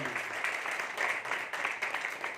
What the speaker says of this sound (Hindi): ये जोरदार तालियां